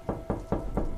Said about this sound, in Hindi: झोपड़े के दरवाजे पर लगे हुए कुंडे को पकड़कर दरवाजे पर ठोका।